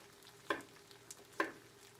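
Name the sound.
chopping squash and zucchini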